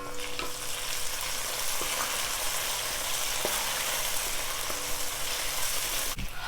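Onions and tomato sauté in hot oil in a pan, giving a loud, steady, close frying sizzle throughout, broken by a few sharp clicks of a spoon against the pan and a louder knock right at the end.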